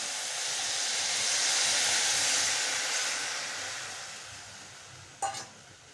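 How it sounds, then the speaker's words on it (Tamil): Sugar syrup is poured into roasted rice flour and stirred for Kerala ila ada. A steady hissing sizzle swells and slowly fades, ending with a short sharp clack of a utensil. "சர்க்கரை பாகை ஊற்றி கொஞ்சம் கெட்டியாகிற வரைக்கும் மிக்ஸ் பண்ணி விட்டுக்கலாம்"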